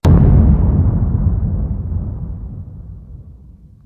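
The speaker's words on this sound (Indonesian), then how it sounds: "akhirnya kepala dari Ratu Laba-Laba akhirnya meledak" In a game on its hardest mode, a cannon's fifth shot blows apart the spider queen's head: one loud, deep explosion bursts at once and then rumbles down slowly over several seconds, with no voices.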